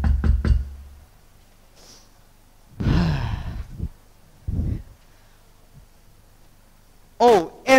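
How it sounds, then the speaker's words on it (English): Three sharp knocks on a door open a school Christmas stage play, followed by sighs, breathing and a voice. "He runs to his teacher's house and knocks on his door."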